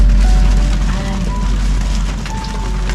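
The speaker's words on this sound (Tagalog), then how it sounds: "Ang lakas ng ulan." Heavy rain pours down steadily, a loud, dense hiss and low drumming rumble on a roof and surfaces that holds constant throughout, with faint tonal sounds drifting over it.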